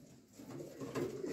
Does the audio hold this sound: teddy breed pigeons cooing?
yes